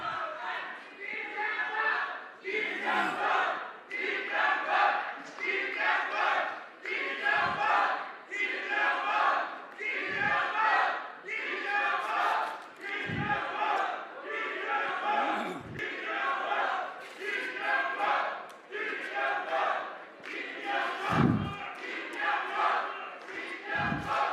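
Large crowd at an election joint speech rally for a Korean realtors' association president, shouting and jeering in repeated loud bursts that rise and fall steadily, with a few deep thumps between waves.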